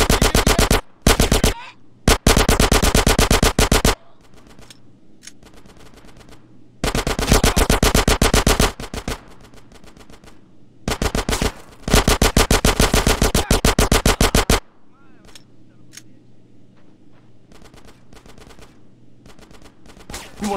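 Automatic gunfire in the video game GTA San Andreas, several long, loud bursts of rapid machine-gun shots separated by short pauses and scattered single shots, with voices between bursts.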